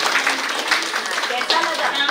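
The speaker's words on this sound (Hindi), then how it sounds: "ताली बजाते जाइए भाई।" Audience clapping at a Shivshakti program in Biratnagar, Nepal, a dense, continuous patter of many hands under a loud speaking voice.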